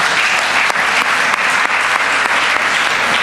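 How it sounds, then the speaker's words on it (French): Audience applauding steadily at a seminar, a dense, even clatter of clapping hands that carries on without a break throughout. "On peut acclamer pour lui."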